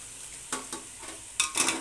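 Tomato and chicken masala for biryani is sautéed in a pan, giving a soft sizzle with a few spoon scrapes and a brighter burst of stirring near the end, brief and without voices.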